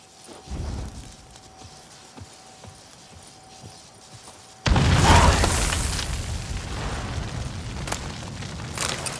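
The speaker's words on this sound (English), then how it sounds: "Gotta blow this up if I want to get rid of the Endrigas." A loud explosion goes off suddenly partway through, a deep booming burst followed by sustained rumbling debris, after quieter horse hoof clip-clops and ambient game sounds, from blowing up an obstacle in The Witcher 3: Blood and Wine.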